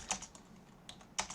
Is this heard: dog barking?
no